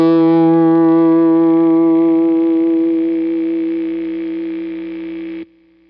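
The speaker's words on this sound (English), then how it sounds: "the distortion, the overdrive, is boosting the note very high up, which is boosting the noise up as well" A single guitar note rings out through overdrive into an EHX Silencer noise gate, sustaining with a bright harmonic buzz and steady hiss that swell as it holds, then cutting off abruptly near the end, leaving a faint hum.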